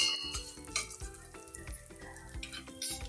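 Dry fruits sizzle and fry in a pan for rice kheer while a spoon stirs them, making repeated scraping clinks against the metal over a soft bubbling hiss.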